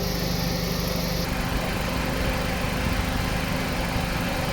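A Suzuki Ciaz engine runs loudly and steadily close by, revved with the air conditioning on after an AC compressor clutch replacement, a continuous mechanical drone with a slight shift in tone partway through; no voices.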